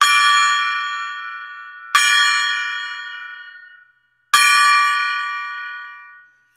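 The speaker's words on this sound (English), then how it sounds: "we're going to ring the gong for Pat Holland 3 times." A gong is struck three times, each hit ringing out bright and loud, then slowly decaying. The strikes come roughly two seconds apart, with no talk over them.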